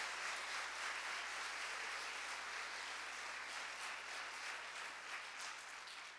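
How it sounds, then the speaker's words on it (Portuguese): A church congregation applauds during a sermon, a sustained even wash of clapping that sounds distant and fairly faint, with a low steady hum beneath it. "aplauda o Senhor o mais forte que você puder"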